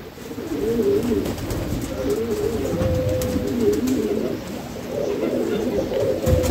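Pigeons coo steadily in a nest holding eggs and a freshly hatched chick, a close, continuous low warbling that runs throughout with no talk over it.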